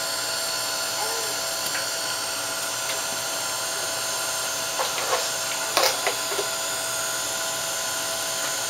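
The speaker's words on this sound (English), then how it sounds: "So, gonna use my heat gun." A handheld heat gun runs steadily throughout, a continuous whirring fan and motor whine with a high-pitched edge, used to heat a shabby chic artist trading card in a home craft setting. A few faint clicks and handling sounds rise briefly near the end.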